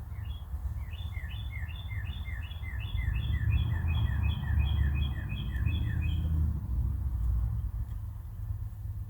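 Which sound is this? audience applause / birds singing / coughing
birds singing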